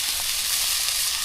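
Spices with bay leaf and salt tipped into a hot pan for a Bengali village iftar dish, giving a steady, close, broadband sizzle that holds evenly through the short stretch with no voices.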